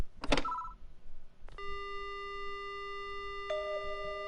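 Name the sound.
telephone ringing in the video game Death Mark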